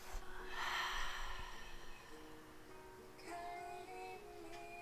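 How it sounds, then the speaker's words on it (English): A long, breathy exhale through the mouth during gentle yoga breath work, rising and then fading over soft, steady background music. "Breathing out of your mouth."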